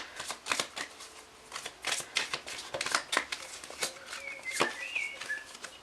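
Tarot cards being shuffled by hand, repeated crisp riffling and slapping bursts in an uneven rhythm, close and clear, with faint bird calls in the background.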